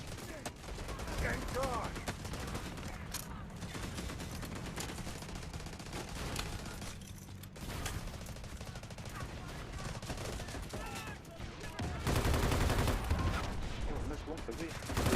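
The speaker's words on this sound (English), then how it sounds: "Artillery barrage incoming." A video game battle with continuous rattling gunfire and heavy artillery impacts, a dense, sustained barrage that swells louder near the end, with voices speaking over the combat.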